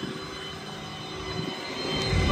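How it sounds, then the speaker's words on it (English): A gas V10 in a 2015 Ford F-550 bucket truck idles smoothly and quietly nearby, a low steady hum with faint tonal whine that swells slightly louder toward the end, no voices. "You can hear the V10, sounds great."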